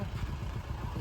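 A motorcycle carrying two riders on a hot road, its engine giving a steady, close rumble with pulsing low throb and rushing wind noise, no voices.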